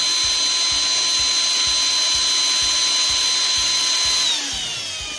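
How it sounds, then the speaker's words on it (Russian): Small hand-held power drill boring a hole through a homemade wooden fishing lure (wobbler), a steady high whine running continuously at close range, then the motor pitch drops as it winds down near the end, with faint mechanical rattle underneath. "И вот ставим сюда и начинаем сверлить."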